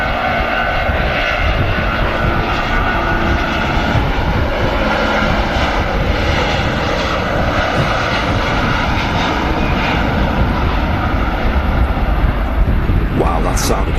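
Jet airliner with Rolls-Royce engines departing Manchester Airport, a loud, continuous broadband engine roar that stays steady throughout, with a voice briefly audible over it.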